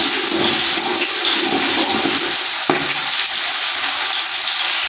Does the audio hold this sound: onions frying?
yes